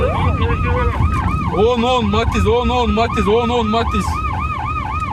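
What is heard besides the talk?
ambulance siren on city streets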